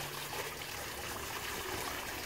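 Water runs out of outlet pipes into a DIY budget fish pond, a steady, even rushing trickle close by that goes on without a break.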